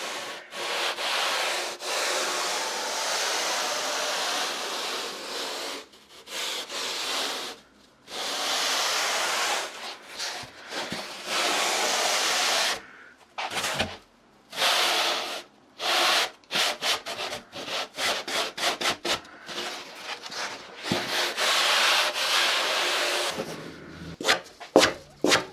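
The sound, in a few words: hands rubbing over a surfboard being shaped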